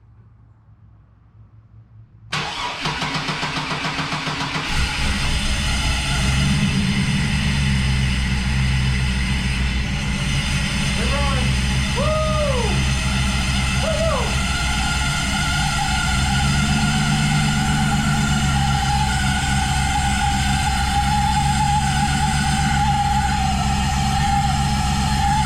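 A small engine running on roughly 50% ethanol fuel cranks briefly and catches, then settles into a steady loud idle with a few short revving swells partway through.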